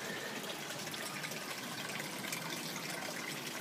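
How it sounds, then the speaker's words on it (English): Water swirls steadily through a funnel into a bioponics tank, making a continuous close, soft gushing and trickling rush that holds level throughout with no voices. "water's been spinning into the tank"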